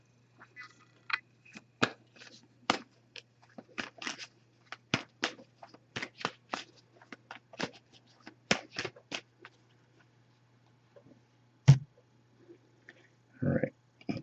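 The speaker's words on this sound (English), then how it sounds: "So I'm just going to give this a few shuffles," Wisdom Oracle card deck being shuffled by hand, a sparse series of soft, sharp taps and riffling clicks in uneven bursts, close and quiet, with a faint steady hum underneath and a louder rustle near the end.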